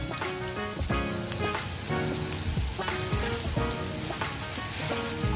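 Kashmiri chili powder hits shallow hot oil for a dhaba-style tadka dal, giving a steady, close crackling sizzle that runs evenly throughout, with faint tonal sounds behind it.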